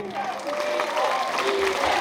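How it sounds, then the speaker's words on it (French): Studio audience clapping on a French variety show, a brief burst of dense applause with some crowd noise and a presenter's voice over it. "Les gars, il faut l'applaudir."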